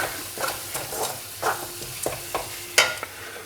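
Spices roasting in a hot pan for lotus stem curry, with a faint steady sizzle and a series of soft scraping stirs and occasional pops spread over a few seconds.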